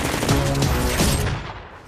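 Dense gunfire from the Bad Boys for Life movie trailer, a loud burst of rapid overlapping shots and booms that fills the moment and then fades out.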